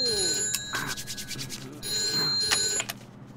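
A telephone rings in an office setting, sounding as steady electronic bursts in two long stretches with a short gap between them, fairly faint and close, with no talking over it.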